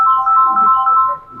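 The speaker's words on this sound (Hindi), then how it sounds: "इसका फोन है" A mobile phone ringtone plays loudly and steadily in a classroom during a physics lecture, one continuous electronic melody that fades slightly at the end.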